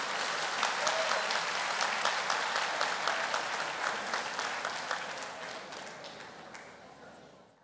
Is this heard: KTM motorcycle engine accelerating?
no